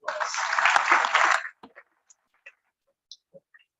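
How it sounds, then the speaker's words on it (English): Audience applause for a children's performance at a school event, a burst of dense clapping for about a second and a half that stops abruptly, followed by a few scattered isolated claps. "give them a huge round of applause"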